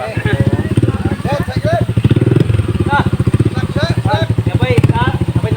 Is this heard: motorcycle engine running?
yes